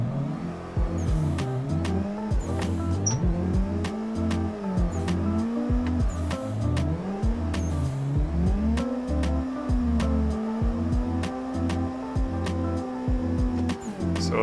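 A sim racing car in a video game drifts with a revving engine that rises and falls, squealing tires and sharp repeated clicks throughout, loud and continuous.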